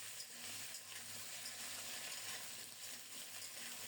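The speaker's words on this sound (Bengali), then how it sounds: "সরিষার তেলে গোটা জিরা আর রাঁধুনি ফোড়নে দিলাম।" Turnip sizzles steadily in hot mustard oil tempered with whole cumin and radhuni, a close, continuous, crackling fry with no talking.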